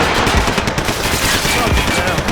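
Rapid automatic gunfire from the Max Payne 3 video game, a dense, loud, continuous burst of shots filling the whole stretch with no pause.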